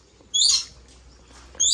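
A parrot at an aquarium gives two sharp, harsh squawks about a second apart, loud and close in an otherwise quiet space.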